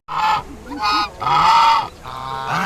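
Domestic geese on a farm give loud, close honks in several drawn-out calls with short breaks between them, harsh and nasal, with no talking.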